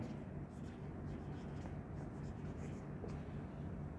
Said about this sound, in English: So write down